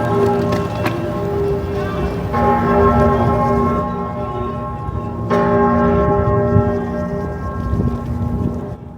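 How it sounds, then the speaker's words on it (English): The Centennial Bell in Philadelphia, cast from four melted cannons, rings with deep sustained tolls, two strikes several seconds apart, each decaying slowly over steady outdoor ambience. "Folks, what you just heard is the Centennial Bell."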